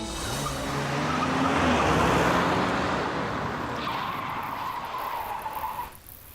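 A car brakes to a stop with a loud, drawn-out tire skid that builds, holds for a few seconds and then cuts off as the car halts, with road rumble underneath.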